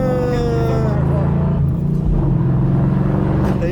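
A 2013 Mustang GT with a 426 hp V8 gives a deep, steady engine rumble that holds close and loud throughout, with voices talking over it.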